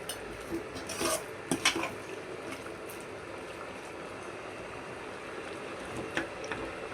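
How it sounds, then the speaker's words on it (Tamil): Spoon scraping and stirring rice and potato masala with fresh coriander in a metal pan, a few sharp clinks at the start followed by steady soft scraping, close and moderately loud. "இப்போது இதில் நாம் கொஞ்சம் கொத்தமல்லியை கொஞ்சம் சேர்த்துக்குவோம். சேர்த்து நல்லா கலந்து விடுங்க."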